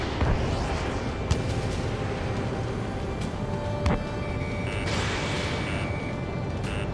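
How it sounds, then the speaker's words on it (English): Missile launch in Ace Combat 7: a roaring, rumbling jet and engine wash with a couple of sharp thumps and a rising whoosh, loud and sustained, no speech. "Strider 1, missile launched"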